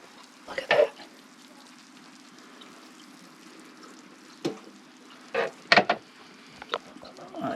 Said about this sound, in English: Ooh, they're still sizzling.